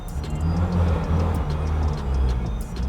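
Ferrari SF90 steered by a remote game controller gives a steady low engine rumble with faint ticking, a close, continuous hum with slight rises in revs and no voices.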